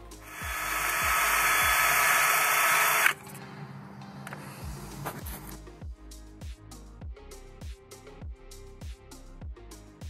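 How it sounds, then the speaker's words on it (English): A drill spinning a cleaning brush in the injector seat of a DAF MX-11 truck engine gives a steady loud whir for about three seconds, then stops; a series of sharp clicks and knocks follows. "I can put this in the chuck in the drill, and within a few seconds, I know the injector seat is clean"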